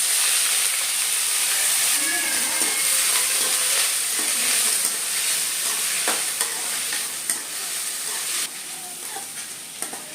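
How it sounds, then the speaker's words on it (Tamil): Steady, dense sizzling of finely chopped onions frying in hot oil for a fish thokku, with occasional stirring scrapes and crackles throughout, close and fairly loud. "வெங்காயம் வதங்கிட்டு இருக்கு"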